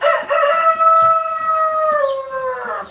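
A lavender Orpington rooster gives one long, loud crow close by, a sustained drawn-out call that slowly falls in pitch toward the end.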